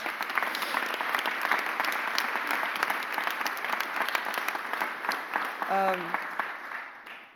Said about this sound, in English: Let's give our people a huge round of applause